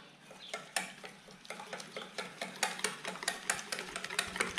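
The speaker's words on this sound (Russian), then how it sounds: "Теперь мы хорошенько это помешаем." A spoon stirs a bowl of red lentil falafel batter, producing soft, quick repeated scraping and tapping strokes at a close range, fairly quiet and rhythmic, with no talk.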